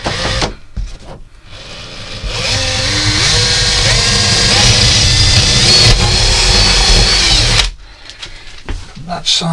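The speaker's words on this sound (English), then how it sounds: "The first thing I'm going to do is drill a large hole" A power drill bores a large hole in a model railway baseboard for point work, a loud steady whine lasting several seconds after brief handling noises, then stopping abruptly, with clicks and knocks.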